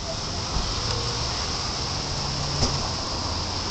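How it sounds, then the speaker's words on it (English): Steady rain falls outdoors near an apartment building, a constant broadband hiss with a faint low rumble and one brief knock, close and even throughout with no talk. "Can't stand out here in the rain."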